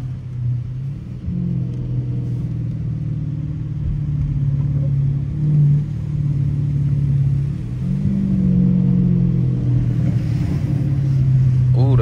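A Dodge Challenger RT burbles at low rpm while driving through a rainstorm, a deep steady engine rumble with gentle swells of throttle inside the cabin, and someone talks over it at times.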